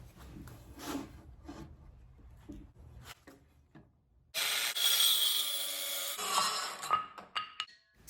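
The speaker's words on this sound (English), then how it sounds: "Put the dowel rod in its place for cutting with my circular saw." A circular saw cuts through a wooden dowel rod with a loud, close whine lasting a couple of seconds, after a run of softer handling knocks and followed by scraping and clattering.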